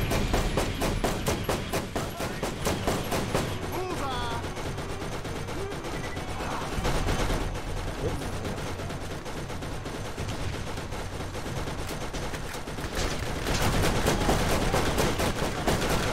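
Sustained machine gun fire in Borderlands, rapid steady bursts rattling loudly for many seconds over a busy game soundscape, with a brief lull before the firing swells again near the end.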